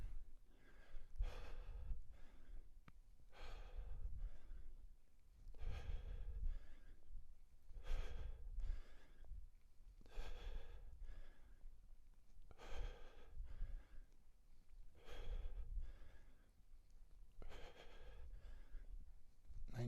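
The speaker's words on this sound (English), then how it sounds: "Lots of breathing." Heavy, rhythmic breathing during a full-body travel workout set, with repeated strong inhales and exhales every second or two throughout, close and fairly loud, with no talking.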